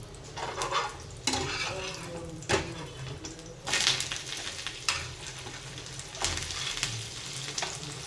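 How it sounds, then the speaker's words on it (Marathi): Omelette bread with onion and capsicum frying on both sides in a pan, a low continuous sizzle with occasional scrapes and flips and a bird cooing faintly in the background. "दोन्ही बाजूने मस्त आता शेकून घेऊया परत"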